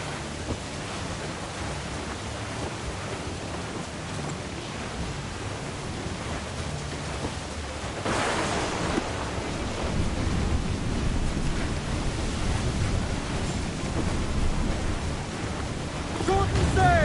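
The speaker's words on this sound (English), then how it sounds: "Storm there, Captain!" A storm at sea in Assassin's Creed IV: Black Flag: constant rushing wind and rain over heavy surf, swelling louder partway through, with faint voices buried in the roar.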